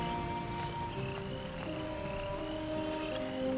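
Steady rain falls at night, a constant soft hiss at low level, with faint croaking frogs mixed into the background.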